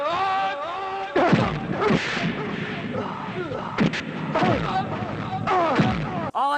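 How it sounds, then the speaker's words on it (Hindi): Foley gunshot effects crack out as several sharp, booming bursts, spread irregularly across a stretch of Hindi speech about movie sound effects. The shots are loud and punchy, with talk running over and between them. "gun shots,"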